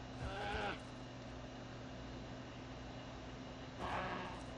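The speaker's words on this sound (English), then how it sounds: "Now we're going to do some ram riding on top of Ironforge." Ram mount bleating in World of Warcraft, ridden atop Ironforge: two short nasal bleats, one at the start and one near the end, over a faint steady hum.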